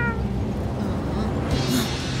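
Cartoon kittens meowing amid a busy, noisy background, a few high meows rising over a constant low rumble, with voices faintly present.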